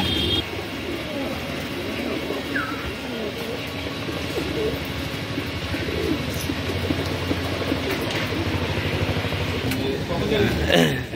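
An aboluk old-generation male pigeon of small size coos softly and steadily, its low murmuring calls running beneath nearby talk throughout.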